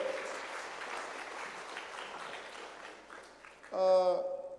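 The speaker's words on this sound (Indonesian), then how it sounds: "Tepuk tangan untuk Pak Lo." An audience applauds Pak Lo Kheng Hong at a stock-market presentation at UNTAR Jakarta: steady clapping that fills most of the clip, then a short bright musical tone rings out near the end.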